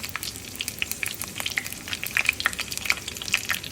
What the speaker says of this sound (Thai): ทอดปลาหมึก